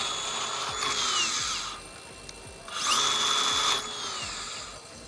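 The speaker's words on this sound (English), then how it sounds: "it will shut off and the brake will apply" A Hilti AG-60 angle grinder whines up to speed twice, and after each run its pitch falls quickly as the brake stops the disc. The tool is close and clear, with quieter pauses between the runs.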